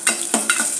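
Cumin and mustard seeds sizzle in hot oil for a tomato charu, a brief steady crackle broken by a few sharp pops and stirring scrapes, close and moderately loud with no talk.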